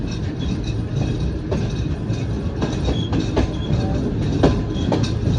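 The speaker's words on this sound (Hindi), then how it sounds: "रवाना हो रही है हमारी ट्रेन।" Shalimar Express passenger train running between Lahore and Karachi, with a steady loud rumble, rattling carriages and faint clickety-clack of the wheels, heard from on board with no voices.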